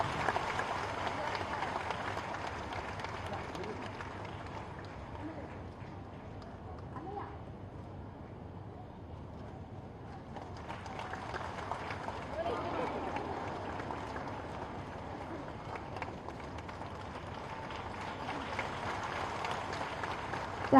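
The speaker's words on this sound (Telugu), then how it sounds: "చప్పట్లు కొట్టండి జ్యోతి వాళ్ళకి" A crowd at a public speech event with a minister present gives a long, steady round of clapping, moderately loud and swelling toward the end, with voices talking over it.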